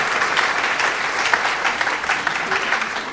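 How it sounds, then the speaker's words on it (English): Applause for two demo presenters and a panel of speakers at an enterprise venture capital event, a dense and steady round of clapping from the room with faint voices underneath. "Let's give one more round of applause for our 2 demos, our amazing panelists."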